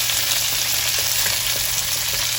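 Curry leaves, onion, ginger and garlic fry together in a pan for Kerala chammanthi podi, giving a loud, even, continuous sizzle with light stirring and no voices.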